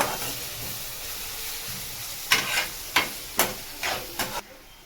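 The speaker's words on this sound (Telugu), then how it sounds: "ఇప్పుడు పచ్చివాసన పోయేంత వరకు బాగా వేగించాలి ఆయిల్లో" Upma semolina (rava) frying in oil in a pan gives a soft continuous sizzle, then a run of five or six rhythmic scraping stirs near the end, close and clear with no talk.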